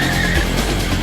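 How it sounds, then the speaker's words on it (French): Two cars accelerating hard toward 120 km/h on a test course, a loud, close roar of engines and tyres filling the whole brief moment without talk. "Les deux voitures accélèrent jusqu'à 120 km/h."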